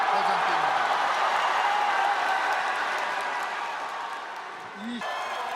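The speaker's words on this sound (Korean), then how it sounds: "김문수 후보의 득표 결과가 과반을 넘자 벌써 환호가 터져나왔습니다" A crowd at a People Power Party presidential primary result announcement cheers and applauds in a steady, dense roar, with a voice faintly audible over it.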